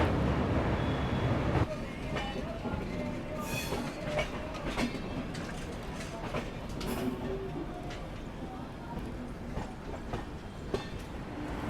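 The Bandra–Barauni Awadh Express rolls past close by with continuous rumble and rhythmic wheel clatter, faint squeals rising over it, and voices talking in the background.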